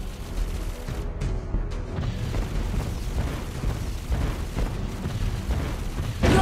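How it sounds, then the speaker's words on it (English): A turret is destroyed in the Mobile Legends video game, with booming explosion noise inside a continuous, loud, dense wash of battle sounds lasting the whole stretch. "Team destroyed a turret!"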